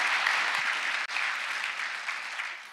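A conference audience claps in a steady, even round of applause at an awards session, moderately distant and without talk over it.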